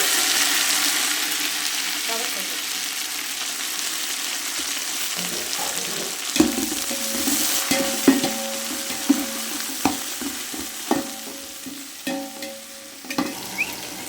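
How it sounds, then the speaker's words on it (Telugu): Onions, curry leaves, coriander and mint fry in hot oil for biryani, a loud steady sizzle joined midway by a rhythmic series of sharp spoon scrapes and knocks against the pan. "ఉల్లిపాయలు వేగిపోయాయండి. కొత్తిమీర పుదీనా వేస్తున్నా."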